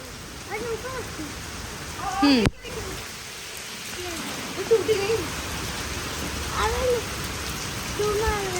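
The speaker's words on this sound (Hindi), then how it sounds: "इतनी तेज बारिश हो रही है" Heavy rain pours steadily throughout in a park, a dense hiss of drops with a few voices talking faintly underneath.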